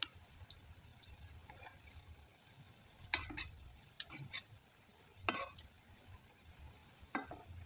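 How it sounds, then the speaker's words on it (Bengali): A spoon stirs and scrapes a banana snack frying in a pan, with sporadic metallic clicks and scrapes over a steady high sizzle of hot oil. "আর বারবার চামচ দিয়ে কিন্তু ভালোভাবে নেড়ে চেড়ে দিতে হবে"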